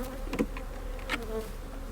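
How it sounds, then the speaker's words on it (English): Honeybees buzz close by in a steady drone as they are shaken off a hive frame, with a couple of louder passes as individual bees fly near. "he will shake the bees off of the frame into the bottom box"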